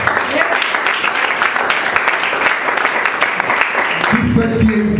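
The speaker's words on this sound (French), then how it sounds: "On acclame le Seigneur dans ce moment." A church congregation applauding, steady dense clapping throughout, loud and close, with a voice speaking over it near the end.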